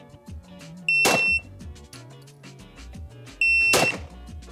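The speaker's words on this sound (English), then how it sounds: "I'll just have you give me a beep." At a pistol grip fundamentals session, a shot timer gives a sharp electronic beep that is followed by a loud gunshot. After a pause, a second beep and a second shot come in the same way.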